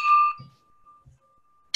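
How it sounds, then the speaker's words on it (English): A single bright bell ding rings out and slowly fades into a long sustained tone, with a soft thump or two underneath and a brief rustle at the end. "Hey, ringing the bell."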